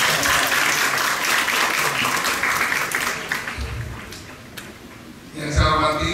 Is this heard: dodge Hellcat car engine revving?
no